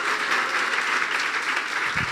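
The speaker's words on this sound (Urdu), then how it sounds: "وہ بجاؤ زوردار تالیاں یسوع کے لیے" A congregation at a church sermon applauds loudly and steadily, dense clapping filling the space without a break for about two seconds.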